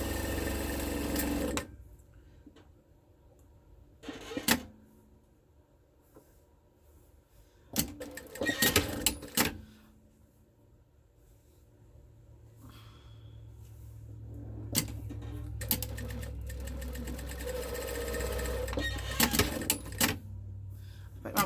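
A sewing machine stitches a Christmas Trip Around the World quilt in short whirring bursts separated by pauses, running longest near the end, with a person talking quietly between runs.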